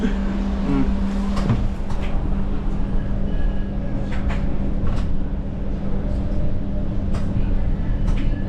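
An ION light rail train rolls past on a Toronto street with a steady loud rumble and a constant hum. Faint clanks and squeals rise over the continuous noise.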